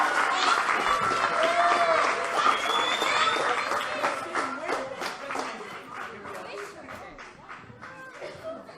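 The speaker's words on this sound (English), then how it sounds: "give a large and loud and obnoxious round of applause as we welcome Christian to the stage" Loud audience applause and clapping at a youth poetry slam in the Bronx, a dense steady roar of many hands with crowd chatter mixed in, gradually thinning toward the end.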